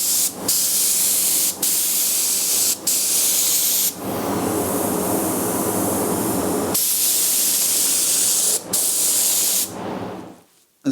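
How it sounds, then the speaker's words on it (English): Coating sprayed inside an old rusty truck cab after epoxy paint, a loud close hiss in long bursts separated by short pauses, ending with a fade. "You can actually spray it on, and you've seen me spraying it"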